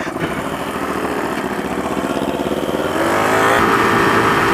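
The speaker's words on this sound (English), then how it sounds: "Were you satisfied by your engine noise?" A motorcycle engine drones loudly and steadily while riding in a tunnel, its pitch rising slightly as the bike accelerates.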